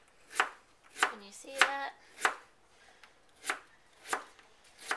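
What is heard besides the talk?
knife slicing peeled potatoes very thin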